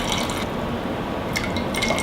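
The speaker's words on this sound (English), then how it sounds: "we add 365 grams of water, of just room temperature water" Room-temperature bottled spring water pours steadily into a sourdough bread mix, a soft continuous trickle and splash lasting a couple of seconds, fairly quiet and close.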